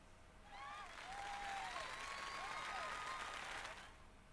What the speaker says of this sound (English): please give a big round of applause for our talented participants